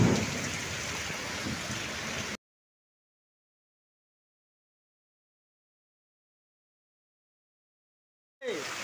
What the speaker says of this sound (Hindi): इतना भयंकर बारिश।